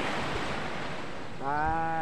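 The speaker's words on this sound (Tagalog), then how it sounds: "nandito tayo sa Baybaying Dagat" Ocean waves wash steadily along the seashore at a fishing village in San Andres, Quezon, a continuous hissing surf with wind, joined near the end by a loud nearby engine hum.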